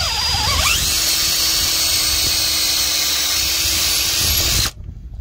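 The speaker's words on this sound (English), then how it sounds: "Now we're gonna be using a bigger drill bit." A power drill with a larger bit whines loudly up to speed drilling out a broken bolt on an air dryer purge valve, runs steadily, close by, then cuts off abruptly, leaving faint background noise.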